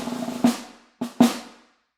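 Three crisp drum hits in a quick uneven pattern, the first after a brief buzzing roll, each ringing out and decaying, played alone and close.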